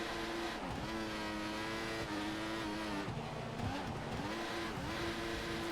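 Engine of an F1 race car in the F1 2014 video game, sliding on a wet track: a loud, steady high engine drone with pitch dips and swoops as revs drop and climb, continuous throughout.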